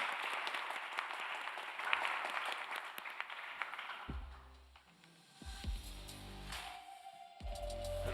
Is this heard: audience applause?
yes